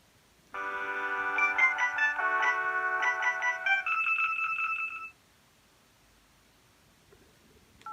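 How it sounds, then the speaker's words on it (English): Alcatel OT-E220 mobile phone with Movistar branding plays its power-on startup tone, a bright electronic chime melody of stepped notes lasting about four and a half seconds, then a long pause with only faint handling rustle. "So let's turn it on."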